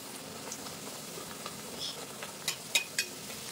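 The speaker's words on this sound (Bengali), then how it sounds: "এবার আমি লুচি ভেজে নেব" Luchi flatbread deep-frying in hot oil gives a soft, steady bubbling sizzle, and a few sharp spatters and crackles pop out near the end.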